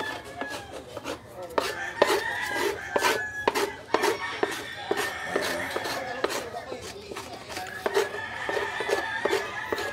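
Repeated rough scraping strokes close by as paint is scraped off plastic motorcycle fairings, rasping in an uneven rhythm, with occasional soft voice in the background.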